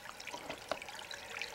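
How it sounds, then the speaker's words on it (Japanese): Faint water of a small mountain stream trickles and drips in a light, irregular patter, quiet and close, with no voices. "ちょろちょろ水の音"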